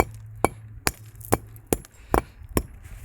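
A hammer knocks the corners off tumbled cut stone pieces, giving six sharp, ringing strikes about every half second, close and loud over a low background hum.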